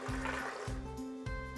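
Water pours into a blender jar already holding cashews for a creamy pasta sauce, glugging in three quick bursts, close and quiet.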